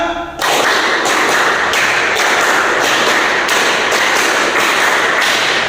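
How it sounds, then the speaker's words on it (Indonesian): A class of students claps together in a counting game during a practice teaching lesson, loud sharp claps repeating in a quick, even rhythm for several seconds with no talking. "3 kali tepuk 5."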